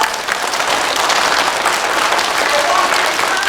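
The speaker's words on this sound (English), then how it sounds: "Give yourselves a big round of applause." A group of schoolchildren at JFK applaud themselves, a dense, even roar of many small hands clapping that holds steady and loud from start to finish.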